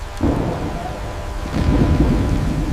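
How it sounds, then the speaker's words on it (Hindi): A thunderstorm with lightning and torrential rain gives a close, heavy rumble of thunder that swells partway through. It sits over a constant wash of pouring rain and wind, with no speech. "बिजली कड़कने लगी और अंतहीन मूसलाधार बारिश होने लगी।"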